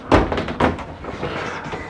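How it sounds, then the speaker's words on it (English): A pocket door in the bathroom of a 2015 Itasca Suncruiser motorhome slides and bumps shut, with two close thuds followed by a softer rolling rattle in a small interior. "you've got another pocket door, obviously, that closes this area off"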